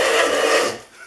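A Stanley No. 5 hand plane with a cracked throat takes a deep, thick shaving off a piece of walnut in one close, steady rasping stroke that fades near the end.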